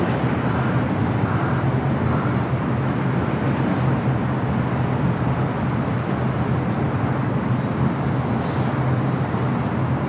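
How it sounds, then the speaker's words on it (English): An Alaska Airlines Boeing 737 MAX 9 arriving from Portland at LAX makes a loud, steady rumbling roar that fills the whole stretch evenly, with no voices over it. "Next arrival on the north side is Alaska Airlines Flight 1172, coming in from Portland on a 737 MAX 9"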